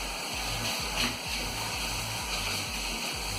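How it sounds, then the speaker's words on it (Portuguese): A cleaning cloth, used with Cif cream cleanser and white vinegar, is wrung and rinsed in water. It makes a steady wash of splashing and trickling with a soft low slosh throughout. "Aí eu vou torcer, enxaguar meu pano, né, igual eu fiz lá dentro"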